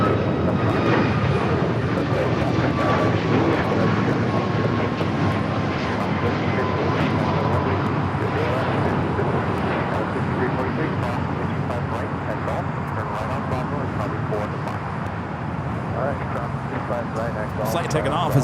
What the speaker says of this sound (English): Flight taking off is Alaska Airlines Flight 1315 heading to Portland at a 737 MAX 9.